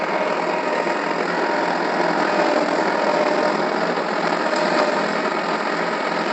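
A tractor engine idles in a steady, continuous drone, loud and close, with a faint rhythmic chug and no voices.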